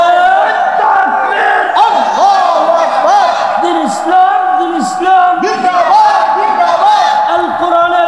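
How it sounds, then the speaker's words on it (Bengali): A large religious gathering shouts a loud takbir chant in unison, sustained voices rising and falling in repeated calls, with a leader's voice prompting above the crowd. "জোরে তাকবীর দেন।"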